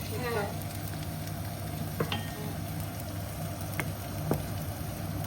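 Meat fries with onion and garlic in a pan while being stirred, a steady close sizzle broken by a few sharp utensil taps, with faint voices in the background.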